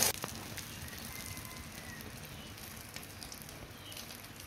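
Egg sizzling in a frying pan with chopped onion and chilies, a steady close crackle and hiss running continuously without pause.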